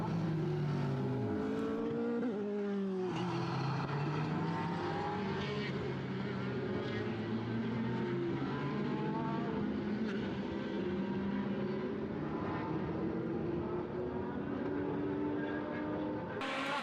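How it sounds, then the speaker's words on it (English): Formula BOSS race cars at Mondello Park, a wet track, engines roaring continuously at a distance with rising and falling pitch as they pass, loud and unbroken throughout. "Race cars crisscrossing the Mondello complex."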